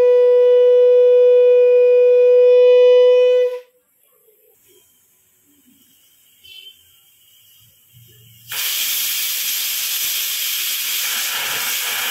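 A pressure cooker whistles in a loud, shrill, steady blast for several seconds, then cuts off to near silence before a forceful hiss of escaping steam bursts out and continues to the end.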